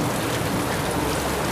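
Heavy rain pouring down in July, a dense, steady roar of drops hitting surfaces, loud and unbroken from start to finish.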